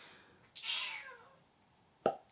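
A cat gives one drawn-out meow, loud and close, followed after a pause by a short sharp plop or knock.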